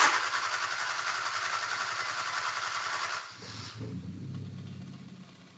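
A car engine runs steadily for about three seconds, then drops off and restarts with a short crank, settling into a quieter idle near the end.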